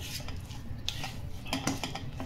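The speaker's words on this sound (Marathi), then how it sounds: "आणि एकदा याला आपण हलवून घेऊया." A spoon stirring pea kachori filling with asafoetida in a metal pan, with quick scraping and clinking strokes, near and fairly soft, without any talk.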